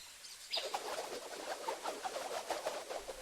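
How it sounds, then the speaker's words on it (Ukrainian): Cartoon pigeons coo and flutter in a busy chorus of soft, repeated calls and wing sounds, fairly faint throughout with no speech. "Я пожену птахів у кошик, а ти закриєш їх кришкою."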